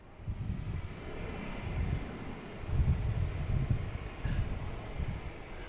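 A KLM airliner taking off from Boston Logan airport, a distant low rumbling roar that swells and fades in waves, muffled by wind noise, with no talk.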